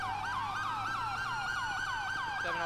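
A wailing police vehicle siren in a video game sweeps up and down in rapid repeated cycles, loud and steady, then shifts tone near the end.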